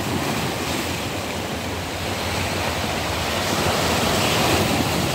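Slightly choppy sea waves on an overcast day, a steady broadband surf wash with mild wind noise that swells a little toward the end, heard alone without voices.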